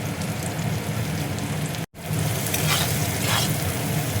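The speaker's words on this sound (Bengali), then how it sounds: "পেঁয়াজটা দেখো হালকা বাদামি করে ভেজে নিয়েছি, এবার কাঁচা লঙ্কা কুচি দিয়ে দিচ্ছি, লাল লঙ্কার গুঁড়ো দেখো দিয়ে দিচ্ছি" Chopped green chillies and red chilli powder hit lightly browned onions frying in oil for a bhindi pakora curry, giving a steady close sizzle with a brief break partway through.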